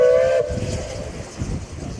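A Hunslet steam locomotive, a Penrhyn-type engine on the Ffestiniog Railway, sounds a loud steady whistle for about half a second, then passes close by with rumbling wheels and chuffing.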